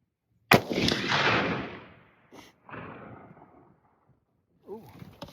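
A single loud, close gunshot from a Christensen Evoke rifle chambered in 7mm Remington Magnum, fired while sighting in at a range, gives a sharp crack followed by a long rolling echo that fades over a couple of seconds.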